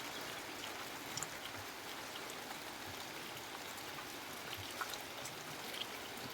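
Steady, dense rain from a typhoon hisses continuously overnight with scattered drops ticking nearby; a soft, even wash of sound with no voices.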